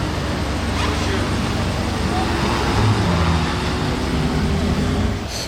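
A convoy of hypercars, including a Ferrari Purosangue, Porsche GT3 RS, Lamborghini Revuelto and Ferrari SF90 XX, driving through Monaco during the Grand Prix, a steady roar of engines and street traffic with someone talking over it.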